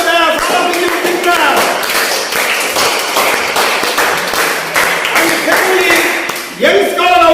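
An audience applauds award winners at a cricket tournament final, with steady crowd clapping and taps over loud talk from an announcer on stage.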